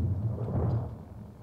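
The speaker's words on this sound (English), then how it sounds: "Stormy night." Thunder rumbles low on a stormy night in the video game Five Nights at Freddy's 3, a single muffled, fairly quiet roll that fades toward the end.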